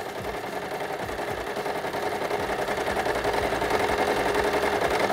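A small mechanical sewing machine stitches paper garland triangles with a rapid, even clatter of needle strokes, steady and close, with no talk over it.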